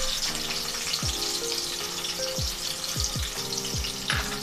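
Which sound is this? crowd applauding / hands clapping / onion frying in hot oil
onion frying in hot oil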